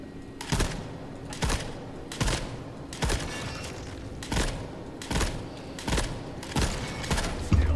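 Semi-automatic gunfire in the Forever Winter video game: about ten sharp, evenly spaced single shots, roughly one every three-quarters of a second, ringing out loud over a steady background rumble.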